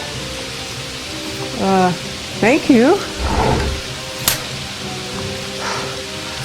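Heavy pouring rain hisses steadily in the background of a radio-drama scene, with voices speaking briefly over the constant downpour.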